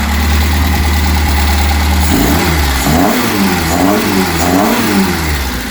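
A Reliant Supervan 3 engine in restoration is given a short rev: a steady idle rises into a couple of revving surges, close and loud, with no one talking.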